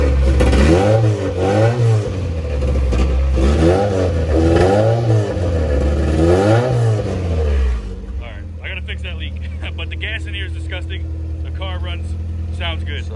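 B20 engine in an EF Honda Civic build, newly running with the MAP sensor wired and a fuel leak, revs repeatedly in four rising and falling surges, then settles to a loud idle while a person talks.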